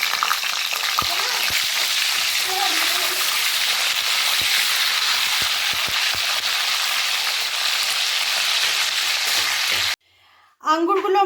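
Grapes fry in a pan with a loud, steady hiss and sizzle that cuts off abruptly near the end, where a voice briefly begins speaking.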